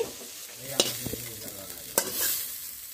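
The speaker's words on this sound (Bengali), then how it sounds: "শাকগুলো দিয়ে টোটাল 5 মিনিট ভেজে নিয়েছি।" Mustard greens stir-fry in a pan with a soft sizzle as a spatula scrapes and knocks against the metal, with two sharper clanks standing out and no voices.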